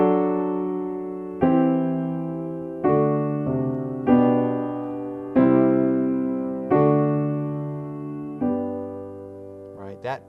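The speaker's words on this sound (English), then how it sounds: "If I just played the bass pattern, it would sound something like this." A simple bass pattern played alone on a keyboard instrument: seven sustained low notes struck one after another at a slow, steady pace, each decaying before the next, with no talking.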